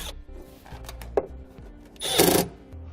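Brief whirring burst of a power driver sinking a screw into a trailer wiring harness fitting on a 2018 Volkswagen, with small clicks and handling noises before it.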